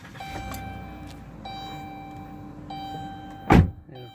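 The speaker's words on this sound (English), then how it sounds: "I'm going to start it up, show you all the lights do work." A 2018 Dodge Caravan SE Plus mobility van starts up: a steady electronic chime tone repeats over a low idle rumble, then a short, loud crank-and-catch burst of the engine near the end.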